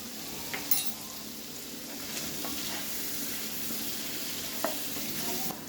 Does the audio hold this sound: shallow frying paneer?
yes